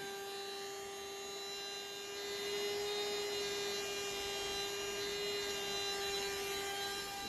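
A handheld blower runs steadily throughout, drying acrylic paint on a spin-bloom canvas, with a constant electric hum and a steady whirr that swells slightly after the first couple of seconds and stays close and even.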